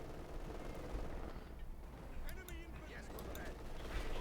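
MG-42 machine gun fire in Company of Heroes 2, a Wehrmacht versus Soviet match, rattling in dense continuous bursts amid a chaotic battle din, with a voice talking over it.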